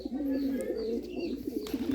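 A Bombay pigeon coos in low, throaty, repeated phrases, close by and continuous.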